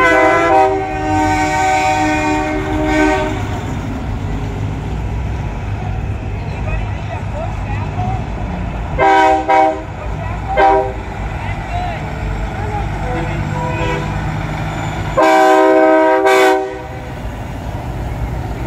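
Semi trucks in a night truck show parade blast loud air horns in long chords, several bursts spread through the stretch, over rumbling diesel engines and crowd chatter nearby.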